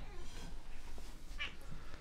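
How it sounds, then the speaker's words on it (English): A pet cat lets out a short, sharp meow partway through, mixed into a noisy indoor background with faint muffled sounds around it and no clear talking. "My cat is pissing me off."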